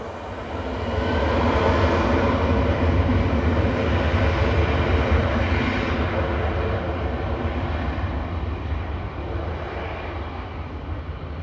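A Boeing 737-800 airliner, flight 4007, roars past at Manchester Airport, its engine noise swelling loud within the first second, holding a heavy rumble, then easing slightly while staying strong and continuous.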